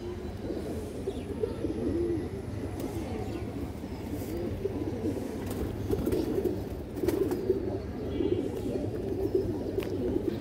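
Large pigeons at a pigeon sale cooing continuously nearby, soft repeated low coos overlapping with faint chirps and a few wing flaps, with little talk.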